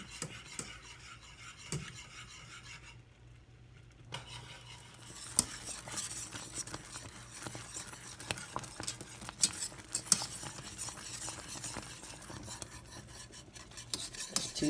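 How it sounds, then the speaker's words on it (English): A whisk scrapes and rasps steadily around a pot of boiling shortbread mixture, continuous soft rubbing strokes with faint clinks and bubbling close by. "So keep on stirring with the whisk."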